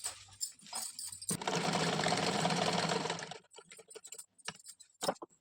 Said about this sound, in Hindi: इसको साथ में ऐसे डबल सिलाई कर दे रहे हैं।